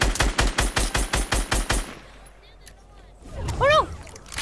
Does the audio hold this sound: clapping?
no